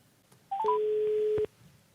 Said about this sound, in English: Let's get my mobile phone out and dial the service desk.